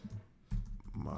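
Keys on a computer keyboard are tapped in a few quick, close clicks forming a short burst of typing, with no talk.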